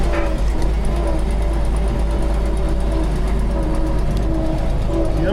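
A 100-year-old Packard car rolls along with a steady, continuous mechanical rumble and rattling drone, heard from close inside, with a faint engine whine running underneath.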